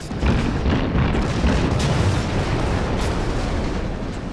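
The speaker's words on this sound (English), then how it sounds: "Oh, this is my secondary batteries are firing." Repeated booming gunfire from battleship secondary gun batteries in World of Warships, on the Tier 3 battleship Kawachi, a dense continuous barrage of heavy low blasts with no talk over it.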